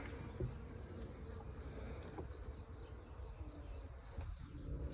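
Honey bees buzz faintly and steadily while a hive is being set up outdoors, a soft continuous hum with occasional light knocks of frames and handling.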